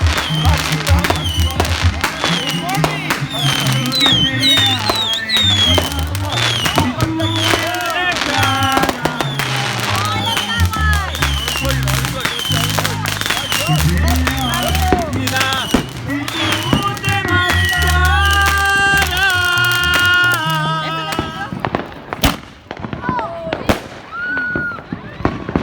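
Fourth of July fireworks crack and pop repeatedly in quick, uneven bursts, loud and close, with people talking and calling out over them before the blasts thin out near the end.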